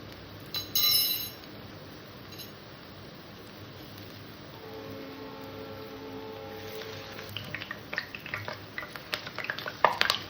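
Pointed gourd and onion pakoras frying in hot white oil: a soft, steady bubbling hiss with a brief burst of metal clinks early on and scattered crackles and spatters growing toward the end.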